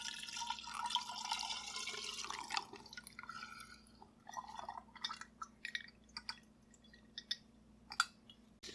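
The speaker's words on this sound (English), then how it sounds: "I'm just going to pour this right in." Homemade limoncello poured through a funnel into a bottle, a soft liquid gurgle giving way to scattered drips and glassy trickles, quiet and close, with no talk.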